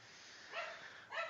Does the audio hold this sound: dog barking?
yes